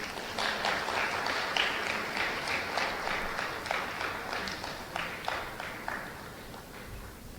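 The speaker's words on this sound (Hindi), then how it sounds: "कृपया जोरदार तालियां हो जाएं।" Scattered applause from an audience at a government ceremony in Minto Hall, Bhopal, marking the release of an e-magazine; a fairly distant, uneven patter of clapping with irregular louder claps, steady for several seconds.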